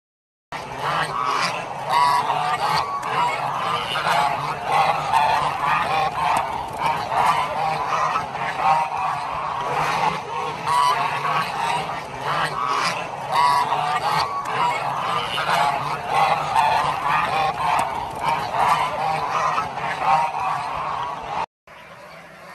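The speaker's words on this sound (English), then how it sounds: "The life cycle of a lionhead goose, also known as the African goose or Chinese goose, typically goes through several stages." A large flock of Lion-Head geese, also called African or Chinese geese, on a large goose farm honks loudly and continuously, many overlapping calls forming a dense clamor close by, then it stops abruptly near the end.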